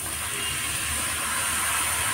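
Mushrooms dropped into hot oil give a steady, even hiss of sizzling, close and continuous with no voices.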